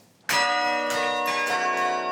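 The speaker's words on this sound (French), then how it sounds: "Nivelles possède son carillon dès le Moyen-Âge." Medieval-origin carillon of the church in Nivelles, Belgium, rings out loud and near after a brief quiet start, with bright sustained bell tones and several fresh strikes overlapping as the notes ring on.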